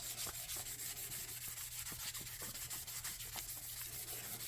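A fog light housing is rubbed down with sandpaper in steady, quick back-and-forth strokes, a dense continuous scratchy rasp, close and faint.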